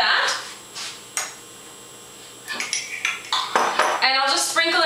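A metal teaspoon clinks and scrapes against dishes while scooping organic brown hulled sesame seeds, with scattered sharp taps and a denser run of rattling clinks toward the end.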